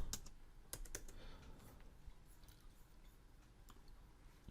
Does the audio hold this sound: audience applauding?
no